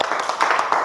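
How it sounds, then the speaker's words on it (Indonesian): Group applause from pupils in a primary school classroom, a dense patter of many hands clapping steadily for a second, close and fairly loud. "beri tepuk tangan dulu buat Giri"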